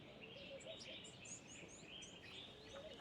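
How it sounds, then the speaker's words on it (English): A blue-naped mousebird calling outdoors, a series of faint high chirps and short whistled notes repeating over a soft, steady background hiss. "I think that is a blue-naped mouse bird."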